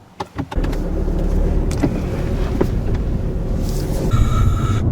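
A Volkswagen Golf driving off in eco mode with the air conditioning running, a steady engine and road rumble heard from inside the cabin after a few soft clicks, with a brief beeping chime near the end.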